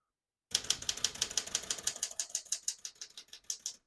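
Rapid typing on a 1976 Smith-Corona Galaxie 12 portable manual typewriter, a steady run of sharp, close key strikes in quick irregular rhythm after a brief silence, with no voices.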